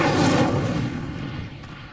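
A fiery Incendio spell erupts in a Harry Potter wizarding video game, a loud roaring whoosh-burst up front that slowly fades and thins over about two seconds, with no talk.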